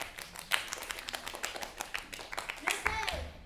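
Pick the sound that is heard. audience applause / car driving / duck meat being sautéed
audience applause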